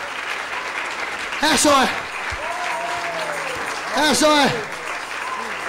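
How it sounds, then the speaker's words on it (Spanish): Church congregation clapping at an evangelical service, a steady roar of applause with a voice calling out over it in two short bursts. "Dale un aplauso a Cristo esta noche."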